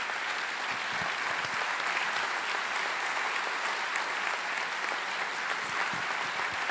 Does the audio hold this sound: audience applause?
yes